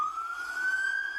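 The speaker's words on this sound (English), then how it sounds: "fire truck" A fire truck siren wails faintly in the distance, holding a single rising tone for just over a second.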